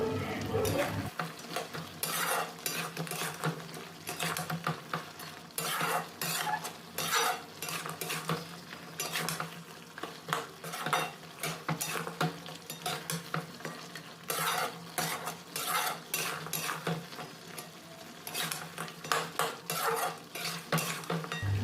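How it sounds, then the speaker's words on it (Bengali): Chicken feet being sautéed in a kadai with chilli, turmeric and coriander powder, a spoon scraping and stirring in rapid repeated strokes over a soft steady sizzle, close and continuous with no talk. "তো এগুলো দিয়ে ভালো করে এবার আমি এটাকে কষা শুরু করব"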